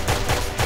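Turrets firing in the video game Intrusion 2: a quick burst of three sharp, loud shots in an even rhythm, heard alone.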